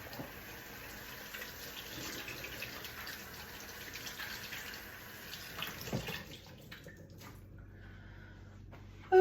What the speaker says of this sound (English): I'm gonna wash my hands because I just threw that in the garbage.